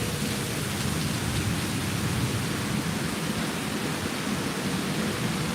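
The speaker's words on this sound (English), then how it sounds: "the rain is coming in and coming in" Heavy rain from a huge storm at Disney pours down in a dense, unbroken roar, loud and close, with no distinct thunderclap and no voices.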